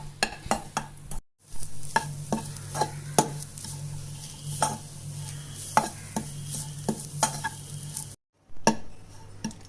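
Grated coconut being stir-fried dry in a pan for a coconut sweet, with steady scraping stir strokes and a soft sizzle underneath, two brief silent gaps, no talking.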